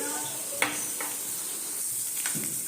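Onions and green chillies fry in a little oil in a pan, a soft continuous sizzle broken by a few light spatula scrapes and taps against the metal.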